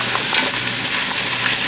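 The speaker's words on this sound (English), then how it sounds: "Give this a mix." Carrots, onions and celery fry in a pan while being stirred for a vegetarian stew, giving a steady close sizzle with soft scraping and stirring strokes throughout, with no talking.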